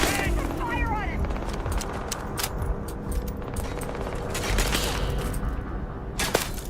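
Gunfire in the space video game Starfield, rapid shots crackling through a busy mix of combat noise, with voices talking over the action throughout.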